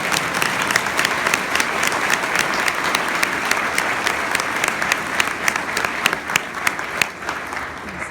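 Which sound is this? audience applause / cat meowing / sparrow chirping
audience applause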